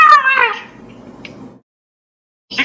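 A person imitates a cat's meow, a short nasal wavering call up front that fades into quiet breathy noise, then silence and a brief new voice burst at the end.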